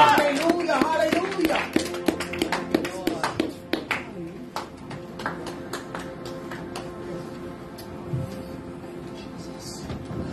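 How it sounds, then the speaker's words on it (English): A church congregation claps hands in praise, a burst of dense applause that thins into scattered claps, with voices speaking over it. "Let's give God a hand clap of praise."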